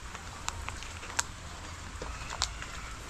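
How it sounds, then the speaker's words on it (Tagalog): Steady rain falls outdoors at a work site, a soft continuous hiss with scattered patter and a few sharper drops, heard alone without voices. "Mukhang maghapon ng ulan."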